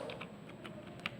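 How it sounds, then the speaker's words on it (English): Soft, quick keystrokes tapping on a computer keyboard, a handful of light clicks in a brief burst against a quiet background hum. "For that I am typing the command as source"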